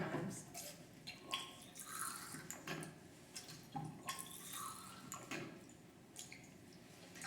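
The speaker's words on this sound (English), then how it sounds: "First you want to rinse the bottle that came with the titration kit with distilled water" A titration kit bottle is rinsed with distilled water at a lab bench: quiet drips and sloshing pours with small clinks of the bottle, soft and close, with faint background noise and no talking.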